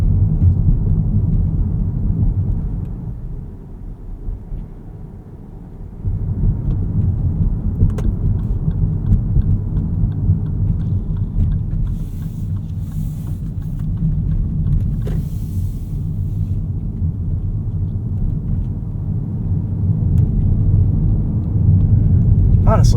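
A 2025 Lexus UX 300h F Sport Handling rolling through a city neighborhood in EV mode, a low, steady road and tire rumble with a brief quieter dip early on and faint clicks, no engine note.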